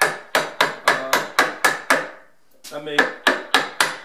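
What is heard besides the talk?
chiseling wood with hammer and chisel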